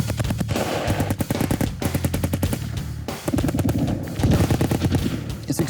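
An M240 machine gun fires several rapid bursts of close, loud shots with short pauses between strings, outdoors on a Coast Guard range in Oregon.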